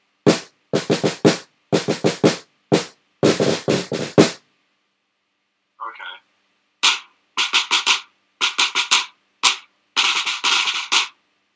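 A snare drum plays quick clusters of buzz strokes instead of regular strokes during a lesson, short bursts separated by pauses, with a brief faint sound in the middle gap.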